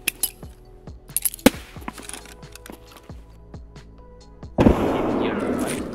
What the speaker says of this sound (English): Let me throw frag before you push him.